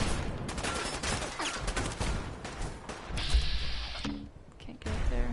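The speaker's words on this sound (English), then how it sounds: "Who's shooting me?" Gunfire in the video game Fallout 4: rapid fusillades and sharp shot bursts crackle loudly in clustered volleys, with brief lulls between them.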